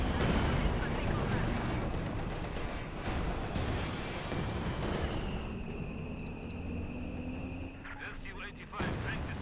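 Machine gun and artillery fire rattle and thud in the real-time strategy game Company of Heroes 2, a dense battle din of bursts and booms, with a commentator talking over it throughout.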